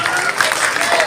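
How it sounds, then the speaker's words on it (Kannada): A seated audience at a book launch ceremony at KLE College claps in a brief, dense burst of applause, close and loud from start to finish. "ಜೋರಾದ ಚಪ್ಪಾಳೆ ಬರಲಿ."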